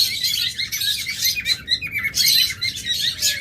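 Blue lovebirds chirp in a rapid, overlapping chatter of high tweets and short squawks that runs through the whole stretch, close and fairly loud, with no talking.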